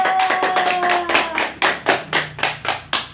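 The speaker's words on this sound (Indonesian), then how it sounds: "oke, tepuk tangan dulu." A classroom of young pupils clapping hands together in rhythmic bursts, starting rapid and blurred, then settling into slower, evenly spaced claps; a faint sung tone lingers briefly at the start.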